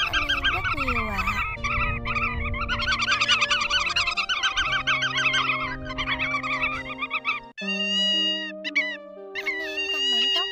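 Lure recording of a woodcock call used to attract migratory birds, loud overlapping repeated calls and croaking tones in rhythmic bursts, layered with honking and warbling sounds across the whole stretch.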